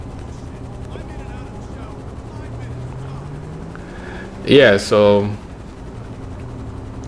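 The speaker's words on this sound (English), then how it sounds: "This helicopter is always flying around here." Military helicopter circling over the Fort Zancudo base in GTA 5, a faint, steady low rotor drone running throughout, with a short burst of talking near the middle.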